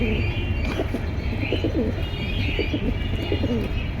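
Several pigeons from a sale collection coo repeatedly in soft, rolling calls, close by, over a constant background hum of a busy room.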